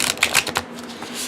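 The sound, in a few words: riffle shuffling a deck of cards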